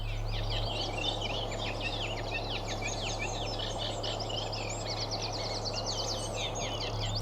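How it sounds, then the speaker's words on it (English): Reed warbler singing from reed beds: a continuous, busy chatter of scratchy, repetitive notes, fairly faint and distant over a steady low background hum, with no voices. "From the various pockets of reed beds I could hear Reed Warbler singing"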